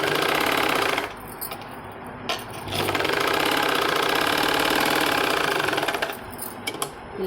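A sewing machine stitches a seam on a drawer in two long, steady bursts of rapid mechanical whirring, close and loud, with a brief pause between them and short stops at each end.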